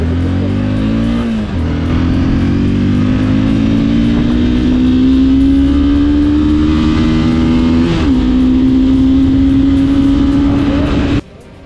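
A Honda CBR 250 sport-styled city motorcycle pulls away on a test ride, its engine loud and close, rising steadily in pitch through the gears with a brief shift dip midway before cutting off abruptly.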